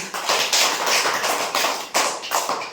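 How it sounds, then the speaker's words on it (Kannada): A group of quiz participants claps hands in bursts, a dense patter of applause swelling and fading several times at close range without talk. "ಚಪ್ಪಾಳೆ ತಟ್ಟಿ, ಜೋರಾಗಿ ಚಪ್ಪಾಳೆ ತಟ್ಟಿ"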